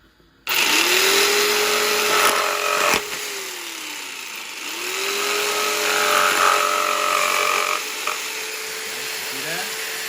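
A power tool whines loudly close by as it cuts notches into wood for wiring, running in two long bursts with a brief stop between them and pitch dips as the cutter bites.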